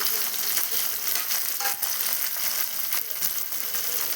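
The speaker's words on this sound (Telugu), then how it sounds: "ఎర్రగా వేగేంత వరకు, గోల్డెన్ బ్రౌన్ కలర్ వచ్చేంత వరకు వేపుకుందాము." Boiled egg slices fry in hot oil with salt, giving a steady, close sizzle and crackle that holds from start to end with light stirring scrapes and no voices.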